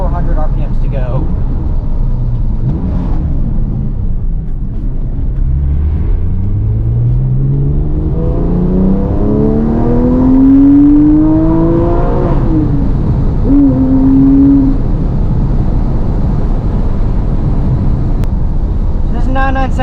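A Porsche 997 GT3 with its 3.6-liter engine revs up through a rising, deepening growl, loud and close from inside the cabin, then backs off and settles into a lower drone.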